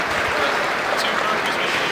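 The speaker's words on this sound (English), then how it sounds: "Let's give those kids a nice round of applause." Spectators at a livestock swine show give the young exhibitors a brief, even round of applause, steady clapping throughout the short moment.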